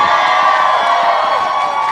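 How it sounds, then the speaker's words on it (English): Stadium crowd at an international soccer match between Australia and New Zealand, a steady roar of cheering and whooping that stays loud and continuous throughout. "All of our brethren in the crowd, are you still cheering on Team Australia and Team New Zealand?"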